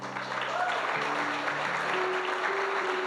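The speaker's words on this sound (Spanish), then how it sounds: "Les damos un aplauso." A church congregation applauds during a special celebration service: a dense, steady wash of clapping hands that runs evenly for a few seconds, with faint voices mixed underneath.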